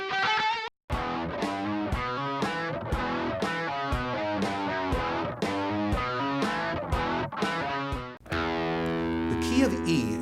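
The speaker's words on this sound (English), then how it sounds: "Here, I'm using the Carl Martin Classic Chorus." Electric guitar played through a Carl Martin Classic Chorus pedal in a heavy rock lesson, strumming steady distorted chords in a driving rhythm after a brief pause, then ringing out with sustained shimmering notes at the end.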